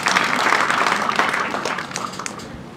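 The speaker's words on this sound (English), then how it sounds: "You clap for the chairman." Audience applause for the chairman at a youth day celebration in Katakwi, a dense, steady clapping from a crowd that fills the whole stretch and tapers slightly toward the end.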